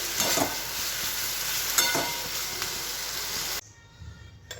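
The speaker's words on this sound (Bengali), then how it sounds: "আলু দিয়ে ঝাল করবো এবার একটু কষাতে থাকি খানিক্ষণ" Potatoes and bitter gourd leaves sauté in a hot pan for a spicy curry, a continuous sizzle with scraping stirs and small pops, then it drops suddenly to a faint background murmur near the end.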